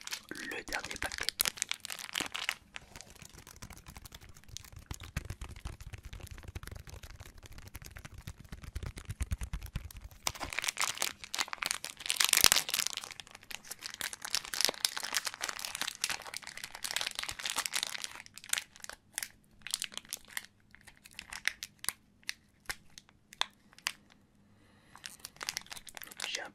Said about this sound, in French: nous allons ouvrir le dernier paquet